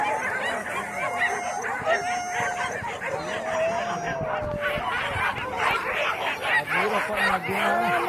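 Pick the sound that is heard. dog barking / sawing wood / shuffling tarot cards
dog barking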